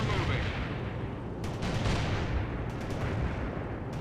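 Mortar strike in the real-time strategy game World in Conflict, with loud rolling booms and bursts of explosive impacts over a dense battlefield din, partly layered under radio-style voice chatter.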